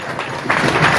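Audience applause at a prize distribution ceremony in Sangla Hill, a brief burst of hand clapping that rises midway and carries on steadily to the end.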